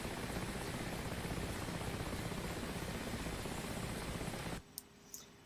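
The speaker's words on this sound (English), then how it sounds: "this is the Mi-8. As you can see, it's not very difficult to take off." A Mi-8 helicopter taking off in a video game, its rotor and engine making a dense, constant loud roar that cuts off abruptly near the end, leaving near quiet with two faint clicks.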